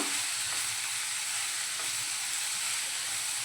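Chopped tomatoes sizzling in a hot pan, with a dense, constant frying hiss and faint stirring scrapes, close and unbroken for a few seconds.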